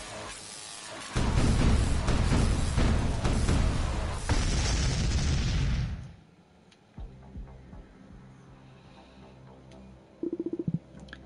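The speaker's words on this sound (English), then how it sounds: "explode." A vehicle blows up in the video game Colossus Down with a loud, sustained booming roar lasting several seconds before cutting off sharply, leaving quiet background sound with a few small pops and ticks afterward.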